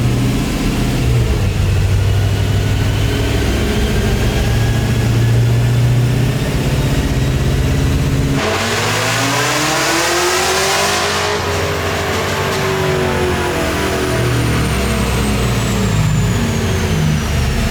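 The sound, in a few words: supercharged truck engine revving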